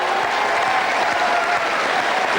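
Loud, dense applause from a TV studio audience on a French evening variety show, a continuous roar of clapping filling the whole moment with no voices on top.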